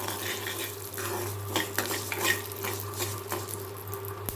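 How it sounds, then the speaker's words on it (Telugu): Fenugreek and mustard seeds roasting in a pan, with soft scraping stir strokes and light clinks of a utensil against the pan over a steady low hum, no talking. "వీటిని కూడా కొంచెం కలర్ వచ్చేలా వేయించుకుందాం."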